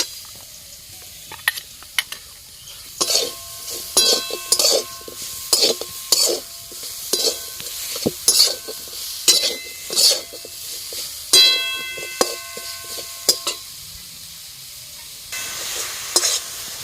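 A ladle stirs and breaks up grated coconut and jaggery in a pan for kadam pitha filling, making repeated close scraping and clinking strokes with soft sizzling between them, in uneven bursts and without talk.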